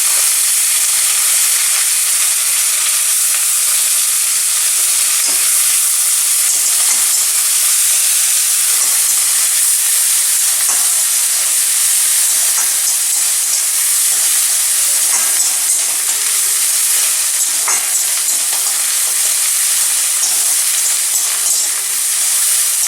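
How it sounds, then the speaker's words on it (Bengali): Dried chillies, cardamom, ginger paste and onion paste frying in hot oil, a steady bright sizzling hiss that continues throughout with faint crackles. "শুকনো লঙ্কা আর এলাচ আমি তেলে দিলাম। আদা বাটাটা দিলাম, পেঁয়াজ বাটাটা দিয়ে দিলাম।"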